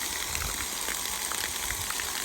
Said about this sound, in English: I've never seen a horse drink out of a water hose.